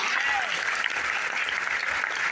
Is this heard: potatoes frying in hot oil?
no